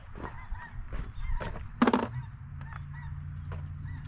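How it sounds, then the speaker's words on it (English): A flock of ducks honks in the open outdoors, with several calls in a row and one louder, closer honk in the middle, over a low steady background hum. "Those are Some sort of ducks, looks like."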